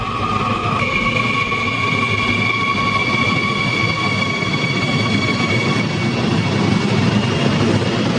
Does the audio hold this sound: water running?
no